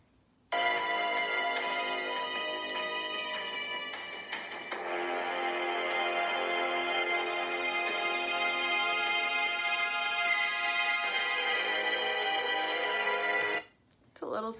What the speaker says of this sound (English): I chose some like intense orchestral music